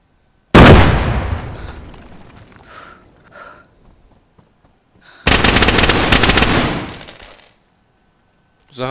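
Two loud bursts of rapid automatic video game gunfire during a base raid, each trailing off, separated by a few seconds of quieter rattles and clicks.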